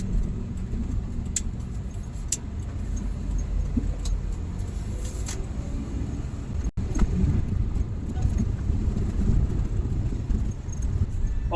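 A non-turbo Suzuki DA64W minivan with a three-speed automatic climbs a hill, its engine droning steadily under road noise. Small rattles and ticks come through from the cabin.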